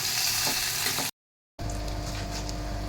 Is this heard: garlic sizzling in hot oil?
yes